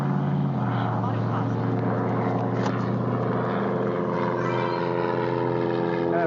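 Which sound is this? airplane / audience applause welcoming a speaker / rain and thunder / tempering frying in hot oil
airplane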